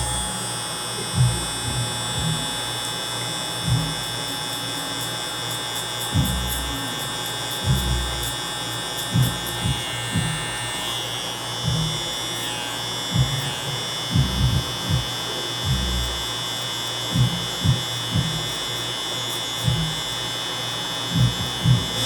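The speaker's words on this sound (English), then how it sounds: "See how I'm holding the clipper?" An electric hair clipper buzzes steadily and close by while cutting a client's hair in a barbershop, its constant whine broken by soft, irregular snips and brushing sounds, with no talk.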